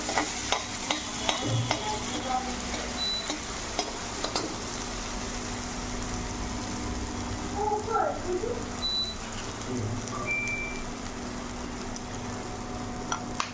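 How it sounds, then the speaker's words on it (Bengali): Ground spice paste fries in a pan and is stirred, producing a steady sizzle with repeated scraping and tapping of the spoon, faint speech in the background. "দেখো মশলাটা ভালো করে ভাজা ভাজা হয়ে গেছে"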